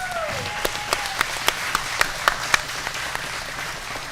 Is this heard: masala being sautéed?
no